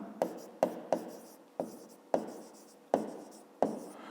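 Numbers are written by hand during a fifth-grade math exercise: seven separate pen or pencil strokes on paper, close and soft, each a sharp tap trailing into a brief scratchy rub, irregularly spaced.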